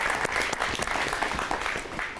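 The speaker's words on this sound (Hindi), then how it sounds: "तालियां।" Audience applause at a live poetry show, a full crowd clapping with sharp individual claps standing out from a steady, fairly close wash of hands, continuing throughout.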